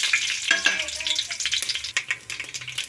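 Ingredients for a chili chutney are tipped into hot oil and fry with a bright, crackling sizzle, close and fairly loud, with a few scrapes and a faint low murmur underneath.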